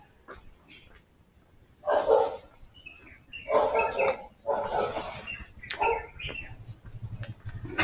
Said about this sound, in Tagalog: Takot ako doon sa aso na yun